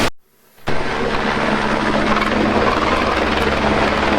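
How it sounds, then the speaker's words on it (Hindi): A helicopter flying toward Hemkund Sahib in the Himalayan mountains makes a loud, steady rotor and engine roar that starts abruptly after a brief drop near the beginning and continues throughout. "हेमकुंड साहिब के लिए हेलीकॉप्टर, भाई इसको हेलीकॉप्टर हम नीचे से देख रहे थे"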